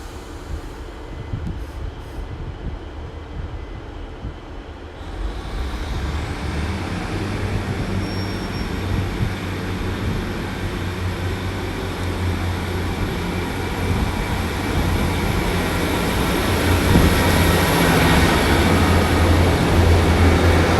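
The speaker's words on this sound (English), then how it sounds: "150-243 leading the way with a good old bouncy pacer at the back." A GWR Class 150 unit, 150-243, leads a train with a Pacer at the rear through Exeter Central station. The rumble rises as it arrives, with a high whine, a steady wheel roll and a sharp squeal near the end.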